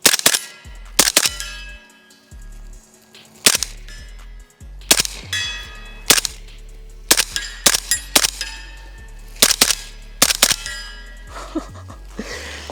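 Suppressed MP5 SD 9mm submachine gun fired in a series of sharp, clacking shots, single and in short bursts, with a metallic action clatter and no voices, heard close up.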